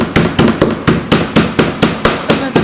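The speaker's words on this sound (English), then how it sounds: "you would just hold it down with one hand and just hammer it with the other" Lemongrass stalks being hammered to break up their fibers for a chicken soup, about ten sharp, evenly spaced close thuds in a steady rhythm.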